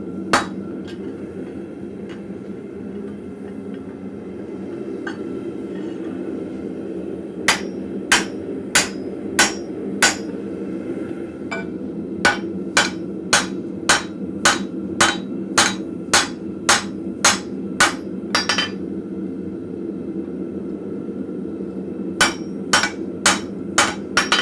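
Blacksmith's hammer striking hot steel while forging and drifting an eye, loud ringing blows in quick rhythmic runs with brief pauses, over a steady forge roar.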